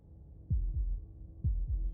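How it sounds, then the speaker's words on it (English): Two deep, thumping heartbeats, each a lub-dub pair of low pulses, repeat at a steady pace, close and clear over a faint hum. "That was the sound of a heartbeat,"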